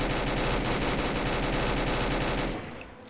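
A light machine gun firing 5.56 ammo in a Fallout 4 mod lets off a dense, continuous burst of rapid gunfire, loud and close, that cuts off near the end with a brief tail.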